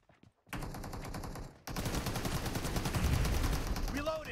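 Rapid automatic gunfire in the PUBG Mobile battle royale game, a short burst then a longer sustained stream of fast shots at fairly low level.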